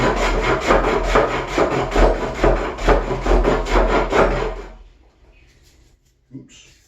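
A hand plane scrubs across a small wooden counter top in a steady run of close, rhythmic rasping strokes that stops abruptly, followed by near silence and a soft knock.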